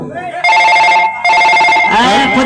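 A mobile phone rings loudly in two long bursts of a repeating electronic ringtone, followed by voices talking at a live Maithili folk dance-drama stage show.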